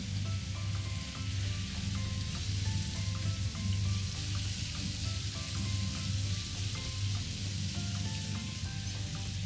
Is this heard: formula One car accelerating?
no